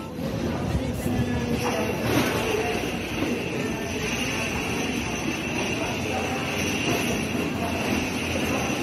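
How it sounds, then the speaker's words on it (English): Steady, busy terminal ambience in an airport in Armenia, with a constant low rumble of machinery or engines and a continuous murmur of people talking throughout. "I'm in the airport."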